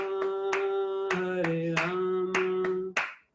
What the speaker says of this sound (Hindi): तो ताली बजा के भी कीर्तन कर सकते हैं